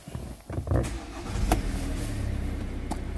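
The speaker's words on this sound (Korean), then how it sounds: "시동 한번 걸어보겠습니다" A Kia Stonic 1.6 diesel engine starts up inside the car. A brief crank and ignition thump is followed by a low, steady idle rumble, with small clicks heard from the cabin. No one speaks.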